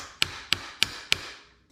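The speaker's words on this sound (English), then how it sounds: "give it a tap with a hammer" Four sharp metallic hammer taps on a bolt of a Honda XR80R engine during a top end rebuild, evenly spaced about a third of a second apart, close and crisp with short ringing decay.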